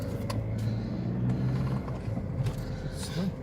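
A Lada Priora 16-valve engine with an electronic throttle idles after an ECU reflash following a check-engine light, giving a steady low hum with slight wavering and a few mechanical clicks, up close under some brief talk.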